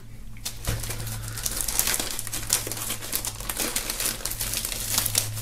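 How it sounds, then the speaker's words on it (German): Plastic foil wrapped around a brown bag with black print is torn and pulled open by hand. The crinkling and rustling is close and continuous, with sharp crackles over a low background hum. "Wir werden mal die Folie, die drumherum ist, hier öffnen."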